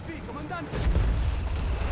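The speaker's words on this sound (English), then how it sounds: "Mortar fire hitting the right side inside the building there." Mortar fire striking a building in Company of Heroes 3, one heavy booming impact with a rumbling tail that follows a commentator's voice.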